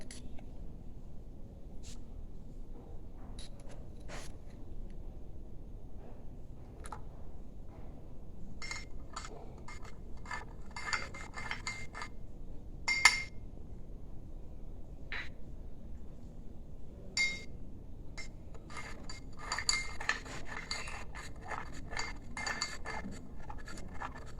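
Salt being stirred into water in a glass: faint, irregular scraping and light clinks of a spoon against the glass, quiet and close, repeating in clusters.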